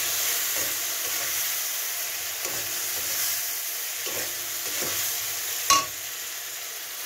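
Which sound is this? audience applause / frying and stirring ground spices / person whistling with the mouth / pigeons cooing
frying and stirring ground spices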